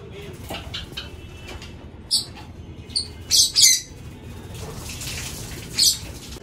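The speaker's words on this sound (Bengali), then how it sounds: "এবারে লাভবার কলোনির পাখি গুলোকে একবারে খেতে দিয়ে দেবো।" Lovebirds in a colony aviary give scattered bright chirps and short squawks, a few louder calls near the end, over a steady low background hum.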